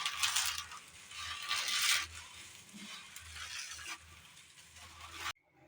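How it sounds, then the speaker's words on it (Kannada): Roasted vermicelli snaps and crackles as it is broken by hand into small pieces, in close, crisp bursts of brittle crunching that stop abruptly at the end. "ಇವಾಗ ಇದನ್ನು ಸಣ್ಣದಾಗಿ ಈ ಥರ ಕಟ್ ಮಾಡ್ಕೊಳ್ಳೋಣ ನೋಡಿ"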